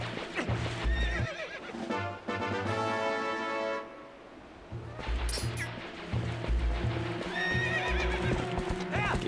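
Epona, the horse in Twilight Princess, gallops with pounding rhythmic hoofbeats and lets out loud whinnies, accompanied by bright game sound effects and music.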